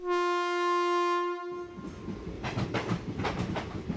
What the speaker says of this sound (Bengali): ঘটাংঘট শব্দ তুলে ঝড়ের বেগে ছুটে গেল কোনো এক্সপ্রেস ট্রেন